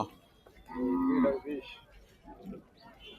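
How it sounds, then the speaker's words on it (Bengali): A cow lets out a single deep, drawn-out moo nearby at a cattle market, followed by quieter background murmurs. "খুব সুন্দর গরু"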